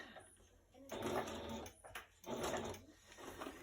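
A sewing machine stitches a paper junk journal pocket in two short bursts of whirring, with a person talking over it.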